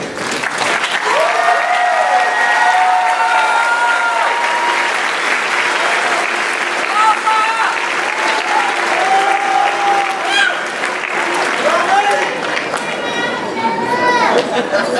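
A high school graduation audience applauds seniors headed to four-year universities. Sustained, loud clapping runs throughout, with scattered whoops and shouted voices rising above it.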